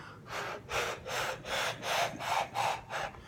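Breathy, rushing blows into a straw flute repeat in a steady rhythm, about eight of them, each a soft airy whoosh with a faint pitch rising toward the end.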